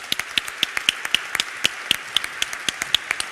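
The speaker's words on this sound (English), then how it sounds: "So please, a round of applause for Eva." A small panel-discussion audience claps for a few seconds, the sharp hand claps sparse and uneven rather than a dense roar, fairly close and with no talking over them.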